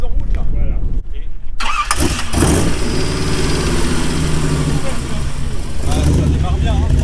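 A hot rod engine cranks and catches, then settles into a loud, lumpy idle with throaty exhaust and a few rising revs, people talking nearby.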